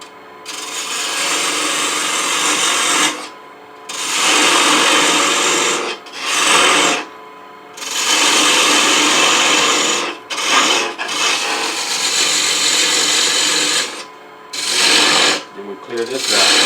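Parting tool cutting into a spinning wood blank on a lathe while turning a one-piece baby rattle, a loud continuous scraping rasp in long bursts separated by brief pauses, close and alone.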